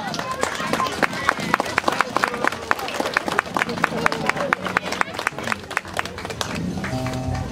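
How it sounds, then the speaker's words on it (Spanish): Guests clap at a golden wedding anniversary celebration, sharp individual claps ringing out irregularly over a murmuring crowd, with voices and room chatter underneath. "¡Un aplauso!"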